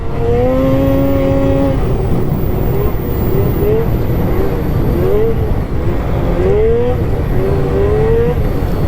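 A MINT 1200 snowmobile engine with 858 clutching runs hard on snow: a loud, close, continuous roar with tones that rise and fall as the revs climb and drop.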